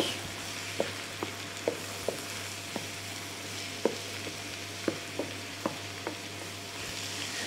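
Pork escalope cooks in a pan with tomato and other sauce ingredients, giving a soft, steady sizzle. Sharp clicks from stirring or utensils break through it at irregular intervals, with no talking.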